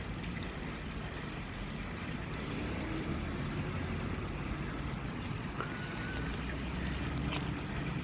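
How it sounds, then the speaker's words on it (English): Water from a pond filter leaks through a gap that pressure keeps pushing open, producing a steady, continuous trickling rush that holds at an even level throughout, with no voices. "But no, water is getting through there."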